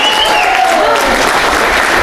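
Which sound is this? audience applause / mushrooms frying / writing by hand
audience applause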